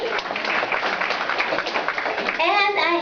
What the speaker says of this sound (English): Let's clap for them, too.